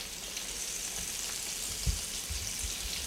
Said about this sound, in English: As the onions are cooking up in there a little bit